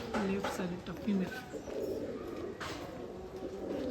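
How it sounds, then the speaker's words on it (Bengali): Trained pigeons coo in soft repeated low calls close by, a few throaty coos early on under someone speaking nearby. "এগুলো সব সেটিং কবুতর"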